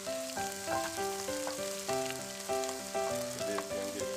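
Onion and garlic frying in a pan for chicken fried rice, a soft, steady sizzle running beneath louder melodic background music.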